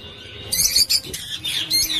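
Green parrot chick squawking in short harsh bursts at close range, several rough calls over steady background noise.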